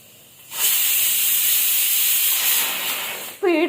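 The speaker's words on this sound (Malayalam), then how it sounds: "പേടിച്ച് കുക്കർ വിസിലടിച്ചപ്പോ" A pressure cooker whistles with a loud, steady hiss of escaping steam lasting about three seconds, then cuts off abruptly; a short burst of a voice or a meow follows right at the end.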